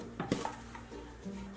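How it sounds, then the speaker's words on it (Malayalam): A heated pressure cooker used for baking a cake is opened, giving a few close metallic clanks and scrapes of the lid, then a brief low hum. "ഇനി ഈ കുക്കർ ഒന്ന് ഓപ്പൺ ചെയ്യാം."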